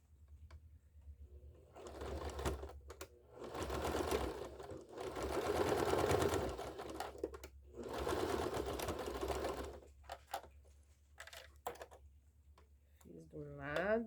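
Domestic sewing machine topstitching a synthetic leather wallet, running in several close bursts of rapid steady stitching separated by pauses, while someone talks through and between the runs.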